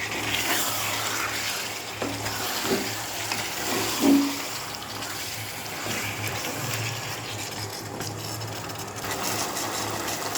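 Meat frying in a pan, a steady dense sizzle that runs throughout at a fairly loud, close level, with a couple of faint clinks partway through and no one talking.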